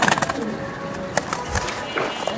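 Hammer pigeons coo and flutter close by, with soft intermittent calls and wing noise among nearby human voices.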